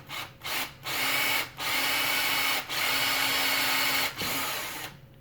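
Small power drill boring a pin-sized hole in a 1:4 scale Wolverine model part, whirring in several short bursts separated by brief stops.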